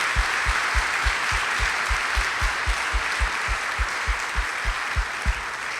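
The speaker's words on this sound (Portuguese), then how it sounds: "Você pode aplaudir o que Jesus está fazendo nas nossas vidas?" A church congregation applauds in a steady wash of clapping, with a regular low thumping beat pulsing underneath, like a drum keeping time, sustained and fairly loud.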